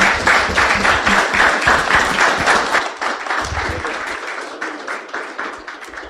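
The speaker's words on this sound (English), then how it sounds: "Can I get a round of applause for these guys?" A round of applause from the audience at a real estate investing meetup, dense clapping that is loud at first and then thins and fades over the last few seconds.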